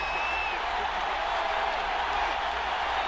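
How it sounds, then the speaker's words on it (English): Stadium crowd noise from a Madden 22 football game, a steady broad roar of cheering fans holding at an even level throughout, with no commentary over it. "Crowd getting in it a bit already."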